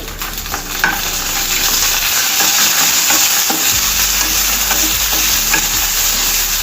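Dried red chillies and green chillies fry in hot oil with cumin seeds, giving a loud, continuous sizzle close by. A spoon stirs and clinks against the pan at irregular intervals.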